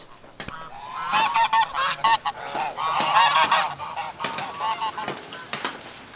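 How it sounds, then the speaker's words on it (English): Several geese honk close by in a quick, overlapping series of loud calls that keeps going the whole time, with no talking over it. "There's some geese."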